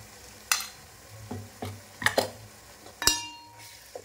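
Ginger garlic paste frying for a chicken curry, stirred in a pan with several sharp scrapes and clinks over a low sizzle, up close and heard alone.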